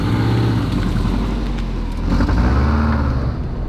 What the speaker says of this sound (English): the moment you set off, you hear the Subaru burble from the engine.